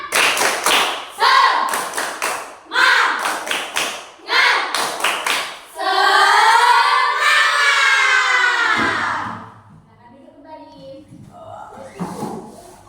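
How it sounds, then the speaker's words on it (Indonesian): A class of students stand and perform a rhythmic clapping chant in a school lesson, loud bursts of claps in four quick groups, then a sustained chanted or shouted group voice before it fades to quieter room sound. "kita sambil berdiri, kita tepuk semangat ya, biar tetap semangat sampai akhir"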